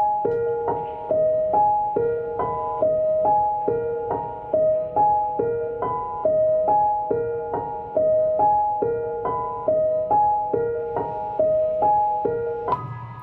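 A melody processed with the Gross Beat plugin in a trap beat loops steadily, each chord cut into rhythmic pulses that swell and chop off in a repeating stuttered pattern, with no talking.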